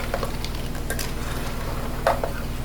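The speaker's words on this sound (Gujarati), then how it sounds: "ચાલો મિક્સ કરી દેવાનું મસ્ત મજાનું." Karela biryani is stirred in a pan over low heat, giving soft scraping and squishing strokes with a few sharper clacks against a steady low cooking hum.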